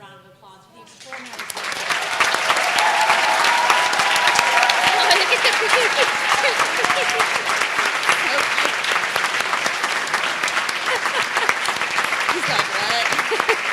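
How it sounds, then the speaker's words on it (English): An audience at a pediatrics residency graduation rises into a long, loud wave of applause that swells quickly and sustains, with scattered cheers and a few voices talking briefly underneath. "please stand and please a round of applause for the extraordinary."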